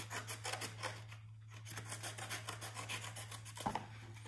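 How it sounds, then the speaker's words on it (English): Scissors cut through the material of a blue banded bee mask in a craft workshop, a quiet, close rasping and snipping in short repeated strokes over a steady low hum. "So first thing we do is we'll just cut through there."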